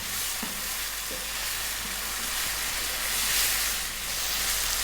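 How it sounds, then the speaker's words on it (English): Tomatoes cook down in a pan for an Indian vegetable curry, a soft continuous sizzle and hiss with a few gentle stirring scrapes near the start, fairly quiet and even. "We want to really cook down those tomatoes. Probably going to take about 5 minutes or so. Stir often."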